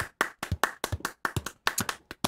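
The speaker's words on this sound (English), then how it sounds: "clap it up for being alive" A small group claps in quick bursts of sharp, close hand claps, a brief round of applause in a podcast studio.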